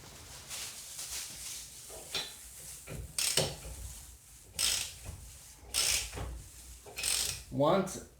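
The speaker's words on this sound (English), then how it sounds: "So I'm gonna put a new lug nuts onto this new wheel stud." A new lug nut is threaded onto a new wheel stud on a 1997-2001 Toyota Camry, giving close, repeated metallic clicks and ratcheting scrapes in short bursts, with some talking around them.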